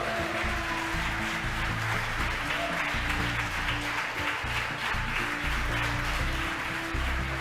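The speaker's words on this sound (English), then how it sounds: "the folks that watched the mission cheering" A crowd of spectators watching the SpaceX Arabsat 6A launch cheers and applauds at spacecraft separation, a dense, sustained roar of clapping and shouts with a low steady hum underneath.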